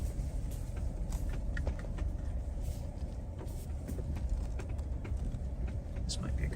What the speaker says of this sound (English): We would usually turn off the truck to keep the noise to a minimum